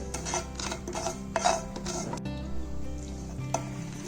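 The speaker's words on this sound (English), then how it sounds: "Our oil is hot now. Into this, we'll add mustard seeds or rai." Mustard seeds crackle and sizzle in hot oil in a pan for a tadka, with quiet, uneven pops and a soft, steady hiss. A faint low hum sits underneath.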